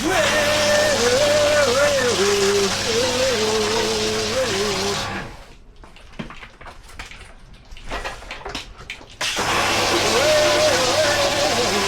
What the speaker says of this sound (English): There's nothing I like more than the sound of dripping snow foam.